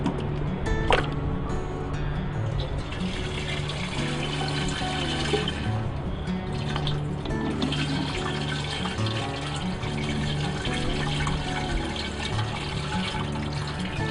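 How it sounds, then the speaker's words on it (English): A water brick container dunked into a pail of dirty water and filling, a steady close gurgling and splashing rush of water that continues throughout without speech. "I'm going to dunk it in and start filling it up."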